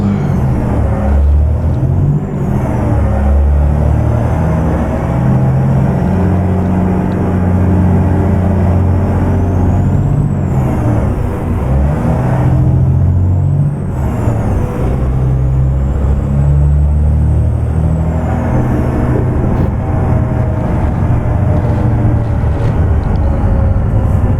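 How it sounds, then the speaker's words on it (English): A truck engine in American Truck Simulator runs continuously as a loud, deep drone, shifting pitch with changes in engine speed as the rig drives along, with no talking. "So let's start the truck."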